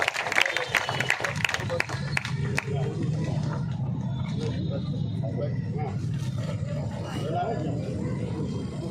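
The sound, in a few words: audience applause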